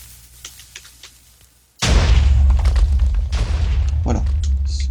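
A TNT cannon blast in Minecraft: quiet faint clicks, then a sudden loud boom that opens into a sustained roaring, crackling rumble lasting to the end.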